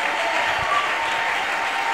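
A church congregation applauding in praise: dense, steady clapping from many hands filling the room, loud and continuous throughout.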